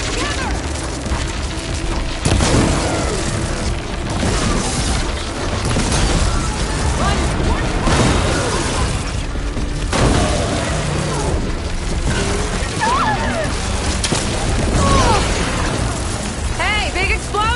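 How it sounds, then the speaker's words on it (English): Explosions and heavy machine combat in the video game Horizon Forbidden West: dense, continuous booms, bursts and mechanical crashes with talk over the top throughout. "big explosion! Watch out!"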